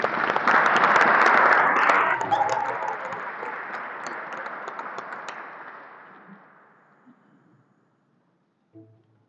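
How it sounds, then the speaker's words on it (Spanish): An audience at a Holy Week program presentation in Vitigudino breaks into loud, dense clapping that gradually thins and fades away over several seconds, leaving near silence. "pueden aplaudir cuando terminemos cada sección"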